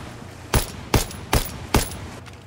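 Gunfire in the multiplayer shooter Call of Duty WWII: four sharp, evenly spaced shots cracking close and loud over a low background hum, with no talking.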